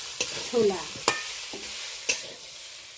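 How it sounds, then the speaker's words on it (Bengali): Soybean chunks and potato are sautéed with spices in a pan, giving a gentle frying sizzle broken by several crisp, evenly spaced scrapes and knocks of a spatula stirring the mix. "সয়াবিন আলু ভালো করে কষিয়ে নিচ্ছি"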